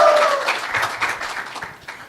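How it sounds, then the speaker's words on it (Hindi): An audience claps for Modi in a short burst of applause that starts strong and thins out over about two seconds. "मोदी जी के लिए ताली बजाइए साथियों"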